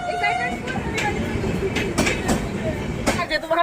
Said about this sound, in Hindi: और ये ट्रेन जा रही है दरभंगा